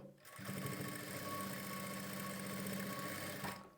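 A sewing machine runs in one steady burst of stitching, stitching piping onto a blouse edge beside folded lining; a close, even mechanical whir with rapid needle rhythm, starting and stopping cleanly, with no talk.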